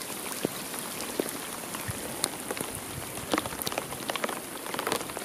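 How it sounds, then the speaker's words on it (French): Steady rain falls outdoors, a dense, even hiss of drops with scattered sharper patters hitting nearby surfaces, continuous throughout and with no talking. "On voit pas beaucoup à la caméra mais il pleut pas mal."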